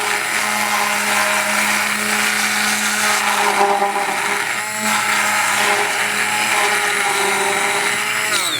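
A blender whirs loudly and steadily as it froths hot chocolate milk for tequila hot chocolate, its motor pitch wavering as the blade is lifted toward the surface and the liquid splashes, with no talking.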